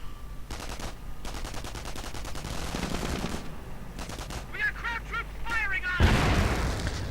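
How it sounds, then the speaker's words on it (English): Gunfire in a World War II strategy game as a Pershing tank fires on infantry: rapid machine-gun bursts and sharp shots with a heavy boom near the end, under fairly constant game noise. "these Volksgunners coming under fire from the Pershing"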